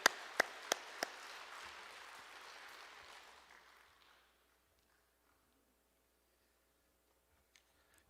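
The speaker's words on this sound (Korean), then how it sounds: "우리 하나님께 영광의 박수 올려드리길 소망합니다." A congregation at a Korean church's Wednesday worship service applauds, opening with a few sharp claps before steady clapping settles in, then fading out after about four seconds into near silence.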